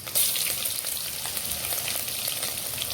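Garlic-ginger paste hitting mutton frying in its own rendered fat, a dense, close sizzle that flares at the start and then hisses steadily, with faint scraping and no voices.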